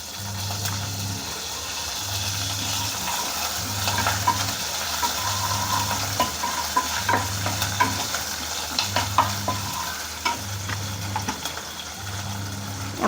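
Curry leaves sizzling in hot oil with cumin and asafoetida while making kadhi, a continuous close frying hiss with scattered spatter pops and stirring scrapes, over a faint repeating background tone.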